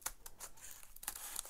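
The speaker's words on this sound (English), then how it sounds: "you get your pair of scissors." Scissors snip through a folded bag, with several short, crisp cutting strokes in quick succession, faint and close with no talking.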